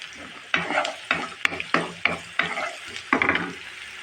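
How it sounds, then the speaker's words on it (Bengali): Radish and spiny eel fish frying in a pan with a paste of turmeric, chili, coriander, onion and garlic, sizzling under repeated sharp stirring scrapes of a spatula at a steady rhythm, close and loud. "আমি এই মাছগুলো দিয়ে বন্ধুরা মুলাটাকে রান্না করব একটুখানি লাল হোক"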